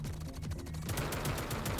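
Automatic gunfire from a newly picked-up gun in a shooter-style video game, a dense rapid stream of shots held on the trigger, louder in the second half and mixed with steady game background sound.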